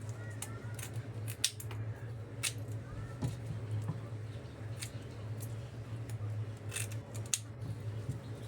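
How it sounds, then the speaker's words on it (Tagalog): Dull kitchen scissors snip repeatedly while fresh sapsap and tilapia are cleaned, giving faint, irregular clicks over a low steady hum. "Medyo mapurol na yung aking gunting."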